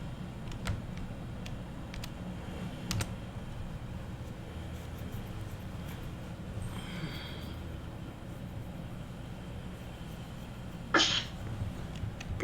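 A single faint sneeze cuts through late, short and sharp against a low, steady engine-like rumble from a boat at sea.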